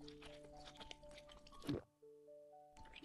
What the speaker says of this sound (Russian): Хлюпающие звуки.